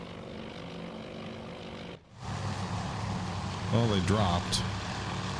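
Torpedo bomber aircraft engines in the naval strategy game Task Force Admiral, a Midway scenario: a steady propeller drone that cuts out briefly, then returns louder with whooshing passes as a voice speaks over it.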